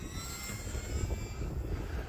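An RC Tundra model airplane flies in a snowy outdoor setting, its electric motor giving a faint, steady distant drone against broadband wind noise.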